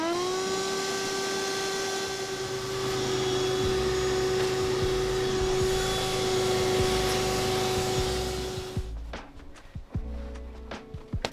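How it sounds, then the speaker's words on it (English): A vacuum cleaner running steadily inside the back of a Jeep Wrangler TJ, a loud continuous motor whine that cuts off near the end, leaving scattered knocks and clatter. "I'm gonna grab the vacuum and start vacuuming the back"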